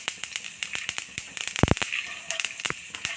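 Chana dal and urad dal crackling in hot oil for a rice dish: rapid sharp pops and sputters scattered irregularly, with a brief dense burst midway, close and fairly quiet, no talking.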